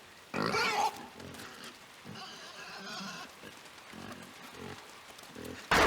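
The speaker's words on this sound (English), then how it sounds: "Alien pig kills you." An alien pig in the video game Inside lets out bursts of loud grunting and snorting squeals, separated by quieter snuffling and shuffling noises, ending in one more sudden loud squeal.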